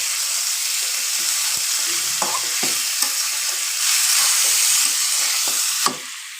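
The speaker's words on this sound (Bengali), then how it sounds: "মাংসটা ভালো ভাজা হবে" Meat sizzling and frying in a hot pan with occasional stirring scrapes, a steady close hiss throughout that swells briefly near the end; no talking.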